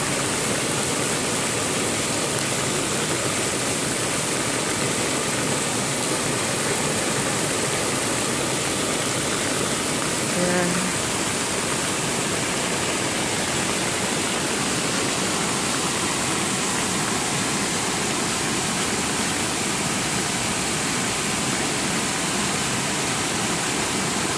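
Heavy rainwater floodwater rushing into a street drain, a steady loud roaring wash of water that holds unbroken and close throughout, with no voices.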